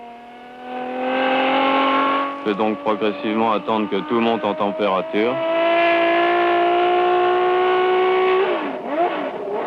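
A 1973 Matra 660 race car engine with Pescarolo at the wheel, warming up from cold. It holds a steady, loud idle, breaks into a run of rapid throttle blips, then settles back to a sustained drone while someone talks over it.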